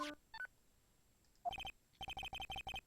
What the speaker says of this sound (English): Is that his ringtone?